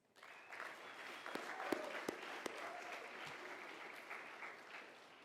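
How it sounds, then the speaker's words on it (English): An audience at a mock presidential election speech event breaks into applause. The sustained clapping fades in quickly, holds steady with a few sharper individual claps, and sounds soft and somewhat distant. "I think Dr. Hardy deserves another round of applause."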